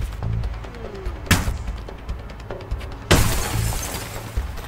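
Glass window smashed in the video game A Way Out: two sharp bursts of shattering glass, the second larger with a scattering crash, over quiet ambient game sound.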